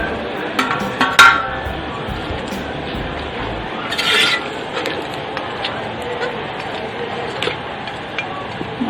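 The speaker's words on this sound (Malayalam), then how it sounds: "അപ്പം നമുക്കിത് ഈ മസാലയിലേക്ക് ചേർത്ത് കൊടുക്കാം" Marinated duck pieces dropped into masala in a pan, giving scattered clinks and knocks of utensils against metal with a soft wet shuffle, close by under a low background hum, with no talking.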